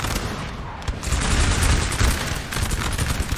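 Massed musket volleys crackle continuously from line infantry in a Napoleon: Total War recreation of the Battle of Borodino, a dense, loud, sustained fusillade with overlapping shots and no pauses.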